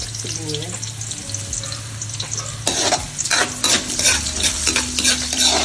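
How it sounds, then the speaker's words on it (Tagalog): Garlic browning in hot oil in a pan for butter chicken, a steady close sizzle broken by scraping and clinks of a utensil stirring against the pan. "Okay, dapat brown na lang yung bawang."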